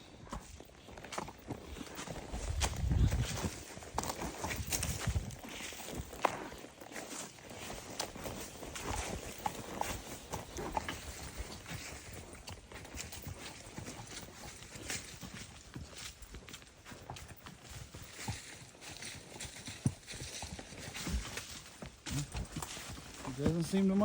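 A Foxtrotter mare walks on a trail ride, her hooves giving soft, irregular clip-clops on the ground while someone talks over them for much of the time.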